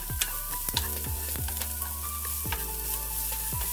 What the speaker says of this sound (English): I am sauteing these onions in this nice olive oil.